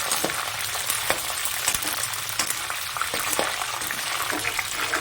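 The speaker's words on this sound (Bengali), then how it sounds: "প্রতিটা কারি পাতা তেলের মধ্যে সুন্দর করে ভেজে নেব মচমচে করে" Curry leaves fry until crisp in hot oil for chire bhaja, flattened-rice fry. A close, steady sizzle runs throughout with scattered sharp crackles and no voices.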